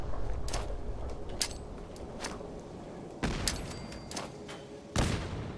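Grenade blasts and gunfire in the video game Fallout 4, with sharp broadband bursts breaking through a steady rumble of battle noise, two especially strong explosions standing out near the end.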